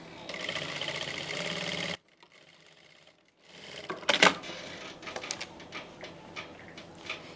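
A sewing machine stitches along a kurti neckline, running in a fast continuous whir for about two seconds, then stopping, followed by quieter clicks and handling of the machine and fabric.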